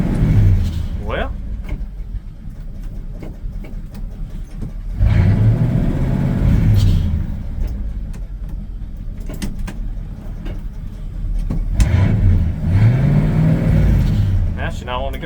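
A 1978 Chevrolet C10 pickup truck with a swapped carburetor idles with a steady low engine rumble, rising twice into longer revving swells. A voice can be heard talking over it.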